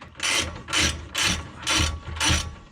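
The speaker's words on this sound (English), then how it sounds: "right here is where I'm bolting, or I'm threading the screw for the actual assembly where the spring is supposed to latch on" A ratchet threads the adjusting screw on a coilover spring assembly for a 2022 Corolla Hatch, giving five loud, evenly spaced bursts of rapid clicking with short pauses between them, up close and with no talk.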